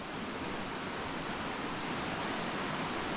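Fast-flowing mountain creek water at about 10,000 feet, a dense, steady rushing roar close by with no pauses.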